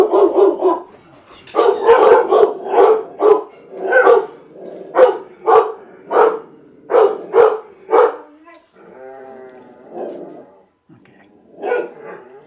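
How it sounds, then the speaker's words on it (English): Several dogs barking excitedly at a front window indoors, a rapid series of loud, close barks in bursts, with a short pause and a softer trailing whine before a final bark. "The dogs go up to the window and they bark like crazy like that."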